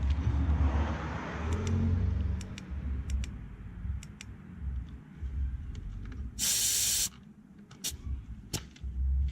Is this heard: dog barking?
no